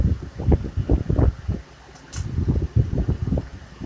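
A glassworking torch flame heats a small green swirl encased glass vase. The flame roars steadily and close, with a rhythmic fluttering pulse and a brief lull partway through.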